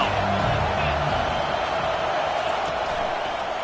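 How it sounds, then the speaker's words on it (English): A football stadium crowd roars steadily on third down, a dense, sustained wall of cheering that stays loud throughout, with a voice faintly audible over it. "Decibels rising as the crowd gets behind this defense on third down."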